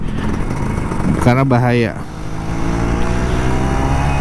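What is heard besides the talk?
Kawasaki Ninja RR 150 motorcycle engine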